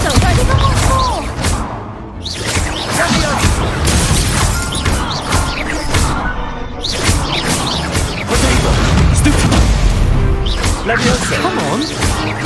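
Spell blasts from Confringo and Expulso in the Hogwarts Legacy video game crack and boom in quick succession, with whooshing bursts and crashes throughout, all under someone talking over the game.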